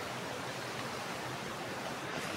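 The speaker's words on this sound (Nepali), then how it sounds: "यो खोला चाहिँ झरनादेखि आएको माथि झरनादेखि" A steady, moderately distant rush of water from a stream running down from a waterfall, continuous broadband noise with no speech over it.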